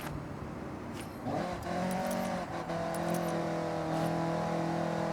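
A Toyota AE86 in Forza Horizon 6, built to Initial D spec and fairly stock apart from the paint, revs up and holds a steady climbing engine note while driving down a hill road, with brief clicks over the top.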